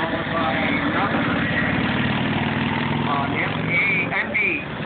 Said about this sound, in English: M151, that's a Vietnam era Jeep on the left, followed by an M54 Dodge 3/4-ton 1950s era